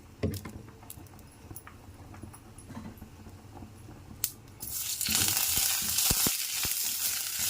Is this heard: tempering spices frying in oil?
yes